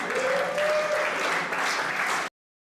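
Church congregation clapping together at an evening worship service, a dense steady burst of hand claps lasting about two seconds before cutting off abruptly.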